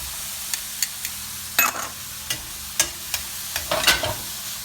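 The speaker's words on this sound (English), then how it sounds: "So now I'm going to toss in my butter." Butter sizzles softly in a pan for sautéing oyster mushrooms with shallots and garlic, a steady fizz broken by a string of sharp utensil taps and scrapes.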